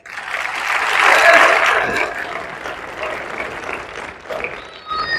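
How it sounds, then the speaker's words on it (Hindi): An audience at an RCM achievers' recognition event breaks into applause, a dense, loud wash of clapping that swells over the first two seconds and then holds steadily, with no talking over it. "एक बार अपनी सक्सेस के लिए ताली बजाओ।"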